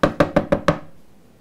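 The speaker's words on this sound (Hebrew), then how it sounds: "דופקים דלת ראשונה." Five firm, evenly spaced knocks on a door ring out close and loud, each with a short hollow decay, followed by quiet.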